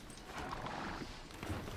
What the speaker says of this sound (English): This time I've got a horse though.